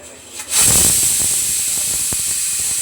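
A pressure cooker lets off steam in a home kitchen, a sudden loud hissing jet that starts after half a second and holds steady and close, with faint rattling underneath.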